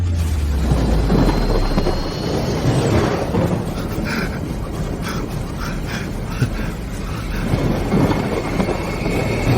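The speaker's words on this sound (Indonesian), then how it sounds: "Lewati badai petir." A thunderstorm rolls on with deep, loud rumbling thunder and steady heavy rain, the booms swelling and easing across the stretch without any talk.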